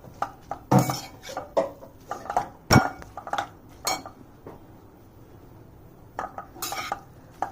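Chinese noodles with mushroom, capsicum and carrot being cooked in a pan, heard as irregular metallic clanks and scrapes of a utensil against cookware, close and sharp over a faint background hiss.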